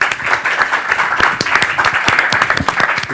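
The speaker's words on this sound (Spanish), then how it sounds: "les pido un fuerte aplauso para los tres" Audience members at a conference plenary session give three panelists a loud, lively round of applause, with crisp individual claps standing out from the dense, sustained clapping throughout.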